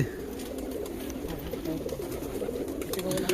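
Giribaz pigeons coo in low, soft, repeated throaty murmurs throughout, close by, with faint background noise and no clear talking.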